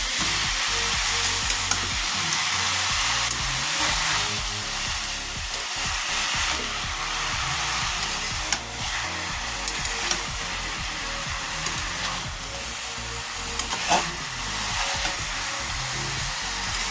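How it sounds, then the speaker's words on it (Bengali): Mushrooms and potatoes fry in a pan, a loud continuous sizzling roar that stays close and even, with soft scrapes and clicks of stirring running underneath. "আবারও ভালো করে নাড়াচাড়া করে মাশরুমটা এর সাথে কষে নেব।"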